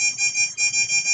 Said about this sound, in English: we have a higher pitched beep than when we're happy